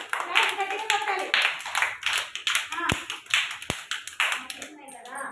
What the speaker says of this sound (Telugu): ఓకే, క్లాప్స్ కొట్టండి. మరి క్లాప్స్ గట్టిగా కొట్టాలి.